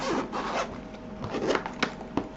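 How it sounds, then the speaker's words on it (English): Zipper on a Nintendo Switch carrying case being unzipped: several short rasping pulls close up, each a quick scratchy burst, with brief pauses between strokes and no talking. "So it's 2 zips."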